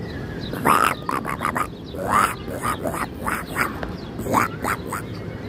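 A person mimics a duck, giving three drawn-out nasal quacks spaced a second or so apart, with faint background noise between them.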